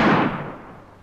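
A single gunshot at target practice in a 1948 Western film, a sharp burst that fades away over about a second, heard alone and fairly faint.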